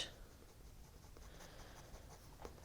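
A purple colored pencil shades a drawing of a German Shepherd, making a faint, soft scratchy rustle of lead on paper in short strokes, close and quiet with no talking.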